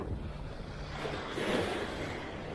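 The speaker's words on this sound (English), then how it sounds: "Just don't let the waves hit you as it comes up." Ocean surf washes up onto a beach at Jones Beach, New York, with a broad rushing swell that rises and then eases, heavy wind buffeting the microphone throughout, and no talking.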